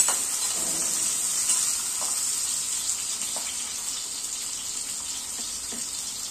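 Chopped onion with cumin frying in a pan for tomato chutney, a steady close hiss and crackle of sizzling oil running evenly throughout with faint scattered pops and no talk.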